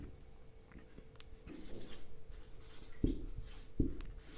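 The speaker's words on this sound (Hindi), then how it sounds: "चौथी हेडिंग हम लिखेंगे" Pen scratching steadily across paper while a heading is handwritten in Hindi notes, soft and close, with a couple of sharper taps or pen lifts near the end and no talking.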